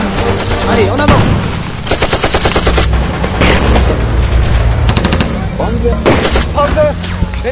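Loud, dense gunfire from an amateur war film, with bursts of automatic fire and heavy booms layered over one another, close and continuous, with voices underneath.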